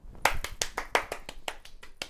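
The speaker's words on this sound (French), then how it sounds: "applaudissements" A single person clapping hands about a dozen times in a quick, slightly uneven rhythm, close and fairly quiet, with no voices.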